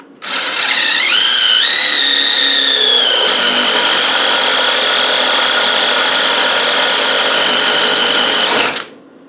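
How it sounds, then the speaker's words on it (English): Impact gun driving a tool into a part to expand it during a heater modification, a loud continuous rattling whine that rises in pitch, steadies, and runs for about eight seconds before cutting off abruptly. "Now I'm using the impact gun because it'll drive into that thing"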